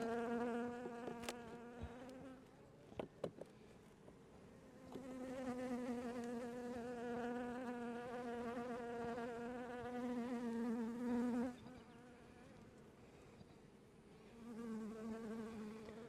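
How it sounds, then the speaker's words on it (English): Honeybees buzz close by on hive frames in a steady, wavering drone that swells louder in the middle, with a few sharp clicks early on. "nice calm bees sitting on the frames"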